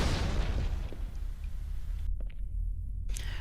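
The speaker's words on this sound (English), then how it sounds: "I bounce it off the wall a little bit, and it bounces back and explodes a couple inches away from the wall" A grenade in Halo 2 explodes after bouncing off a wall, a dull, rumbling blast heard over steady game background noise, followed by a brief quieter gap.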